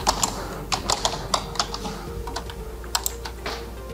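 Someone typing a defendant's name on a computer keyboard in a Czech courtroom recording office, with quick, fairly quiet clusters of key presses at an uneven rhythm and no voices.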